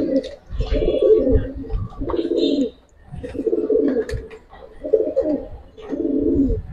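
Pigeons coo close by in repeated low, rolling phrases, about five bursts separated by short pauses, with faint rustling between calls.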